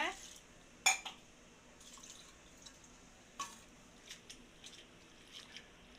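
Flattened rice (aval) being washed in water in a home kitchen, with soft splashes, drips and light clinks of a vessel, faint and intermittent under low background noise.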